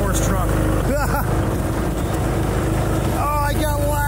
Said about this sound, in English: Can't catch the short course truck.